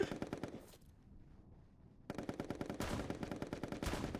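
Rapid machine-gun fire from the video game Pummel Party, loud, dense bursts that stop for over a second, then resume and keep going to the end.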